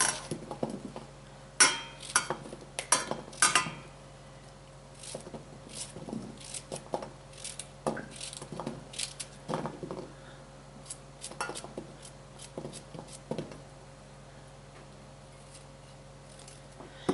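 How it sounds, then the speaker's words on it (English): Green squash being sliced for a stir fry: repeated sharp knife taps on a cutting board come in irregular bursts, loud at first and then sparser, with no talk. "gonna cut up some green squash"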